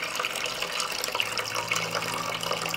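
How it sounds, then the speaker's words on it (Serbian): Water pours from a jar into a pot in a steady, splashing stream lasting a few seconds, close and fairly loud, ending abruptly. "vodu iz tegle presuću u šerpu"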